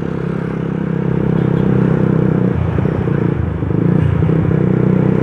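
A Yamaha Vixion motorcycle fitted with a replaced, bassy aftermarket exhaust rumbles deep and loud while riding, its tone dipping briefly midway before the throttle picks back up.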